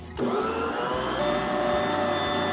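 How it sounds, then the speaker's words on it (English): Electric stand mixer whirring steadily as it kneads sufganiyot donut dough with soft butter added. Continuous loud, close motor drone that holds through the whole stretch, with no talk. "as the mixer continues to work, it's gonna get incorporated"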